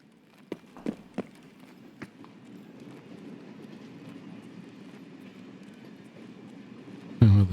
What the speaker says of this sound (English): Oh, the train's here.